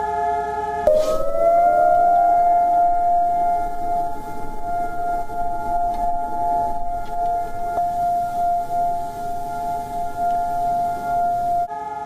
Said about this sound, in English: The sound of a 2-minute siren brought Israel to a standstill.